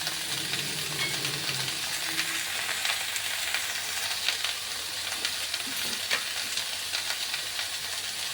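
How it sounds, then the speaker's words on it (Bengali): Chopped tomato and green chilli frying in a pan, making a steady hissing sizzle at constant strength with a few faint stirring scrapes, close up and without talk. "এবার অ্যাড করে দিচ্ছি কেটে রাখা টমেটো আর কাঁচা লঙ্কা।"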